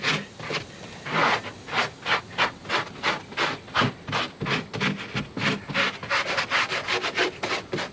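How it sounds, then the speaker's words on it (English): A stiff-bristled kitchen scrub brush scours muddy Jeep carpet in quick rhythmic back-and-forth strokes, each a close, loud rasping swish, about three per second and steady throughout. "Use a stiff bristled brush, try to get all the dirt and mud"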